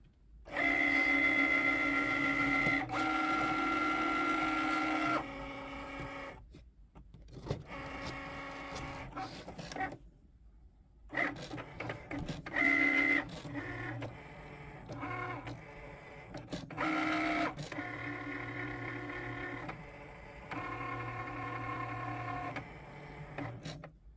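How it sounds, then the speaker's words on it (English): A Cricut cutting machine works through an acrylic blank, giving a steady, fairly loud mechanical whir with pitched motor tones that starts and stops in several bursts, broken by short pauses and one near-silent gap. "I'm going to put it in my Cricut and it's going to cut it."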